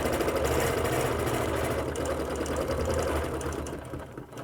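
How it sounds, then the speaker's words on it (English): A sewing machine steadily stitching a quilt along a ruler hums with a fast, even mechanical rhythm, close and continuous, easing off slightly near the end. "I'm going to stitch up a little bit until I get to my line."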